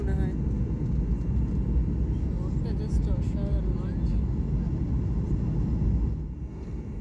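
An Akasa Air airliner descending toward landing in West Bengal gives a steady, loud cabin roar and engine rumble that eases slightly near the end, with a person talking over it.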